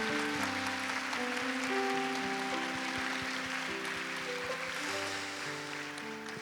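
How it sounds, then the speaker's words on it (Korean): A church congregation claps steadily for a couple being married as sustained organ chords play during a worship service, the applause a dense, even patter beneath the music. "우리 결혼하는 분들을 위해서 축복으로 박수를"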